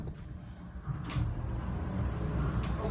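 An Otis hydraulic elevator door at a sports complex slides shut with a low rumbling roll, marked by a couple of short clacks, close by in an otherwise quiet car.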